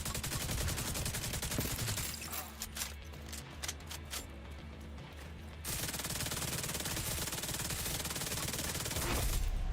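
Gunfire in The Division 2, dense rapid automatic shooting that is loud and continuous, with a quieter pause of scattered shots in the middle before the fire resumes heavily.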